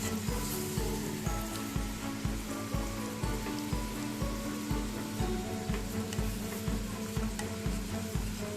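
Ginger, green chilli, capsicum and onion sizzle steadily in a kadai, a dense, continuous frying hiss with regular stirring scrapes recurring about every half second, close and fairly loud with no talking.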